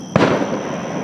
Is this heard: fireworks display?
yes